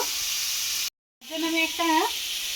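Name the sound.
spice paste being fried with a little water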